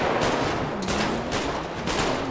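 Rapid bursts of automatic gunfire crackle through a GTA 5 roleplay drive-by shootout, dense overlapping volleys sustained and loud across the whole moment with no talk.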